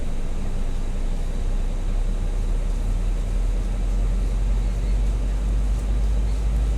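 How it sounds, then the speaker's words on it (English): Simulated Airbus A319 with IAE engines in X-Plane 11, engine 1 spooling up: a steady, broad turbine roar and hiss with strong low rumble, constant level throughout, no talk. "Let's spin engine 1."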